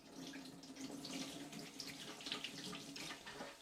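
Tap water runs steadily into a sink to rinse away an egg sac after the yolk is drained, a continuous close splashing stream with no speech.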